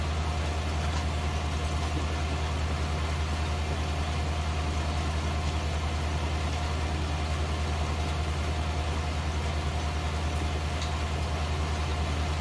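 A tractor engine in the farming game Art of Survival hums with a steady, unbroken low drone that stays constant throughout, with no voices over it.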